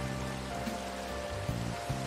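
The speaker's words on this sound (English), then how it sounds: "It's still raining?" Rain falling in the video game Minecraft: a steady, dense hiss of rainfall filling the whole stretch, with a low background hum and a couple of faint soft thuds.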